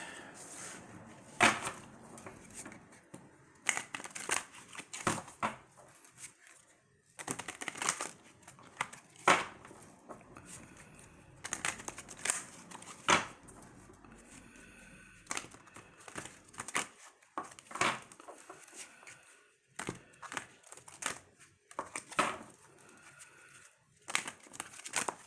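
Tarot cards shuffled by hand in bursts of crisp riffling and papery crinkling, close and moderately loud, with short pauses between rounds.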